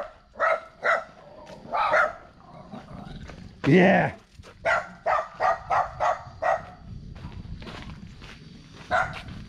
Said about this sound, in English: I'll tell you what, I hate the dogs in Vietnam.